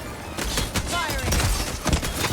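Gunfire in the video game Highguard: several sharp bursts of shots cut through a dense, constant wash of game noise, fairly loud and close.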